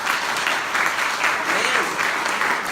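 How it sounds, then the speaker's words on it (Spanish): A church congregation at a Spanish-language sermon applauds the Lord. Loud, sustained clapping from many people runs throughout, with voices mixed in underneath. "¿Le podría dar un aplauso al Señor por eso?"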